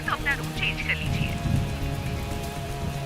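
Heavy rain falls steadily in an outdoor street scene, a dense, even hiss of drops that lasts throughout, with faint tonal sounds briefly at the start.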